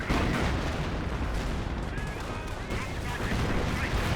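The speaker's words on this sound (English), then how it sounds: "Artillery struck there, got sector artillery in this sector." Artillery shells land in a Company of Heroes 1 battle, a rumbling series of distant booms and crackling impacts layered over constant battlefield din.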